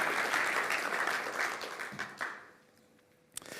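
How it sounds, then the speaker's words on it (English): A conference audience at the Apex 2023 XRPL talk applauds with dense clapping that gradually thins and fades to near silence after a couple of seconds, leaving only a few stray sounds. "Yeah, I'd applaud for that one too."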